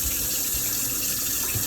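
Water sprinkled by hand onto wrapped food in a home kitchen, heard as a steady, close splashing hiss of running water that continues for the whole moment with no voices.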